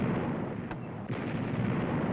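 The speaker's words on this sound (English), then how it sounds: "The shells exploding above sound like distant thunder." Artillery shells exploding and big guns booming on Iwo Jima during World War II combat, heard as continuous distant rumbling like thunder, with a couple of sharper thuds rising over the low roar.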